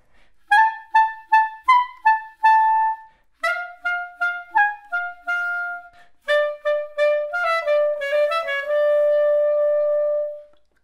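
Klezmer clarinet playing a slow lesson melody, each note approached by a quick grace note from a half step below, phrases of short separated notes leading into longer held tones, clear and alone.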